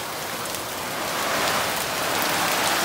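Heavy rain from an approaching hurricane pours down in a dense, steady roar of drops hitting surfaces close by, with no voices.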